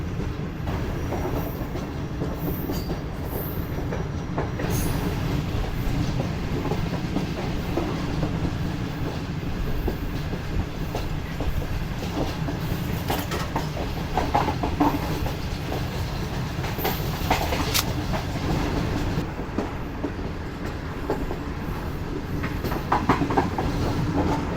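Safari train rolling on rails through the Thar Desert, a continuous loud rumble of wheels with rhythmic clickety-clack over rail joints and occasional metallic squeals, sustained throughout.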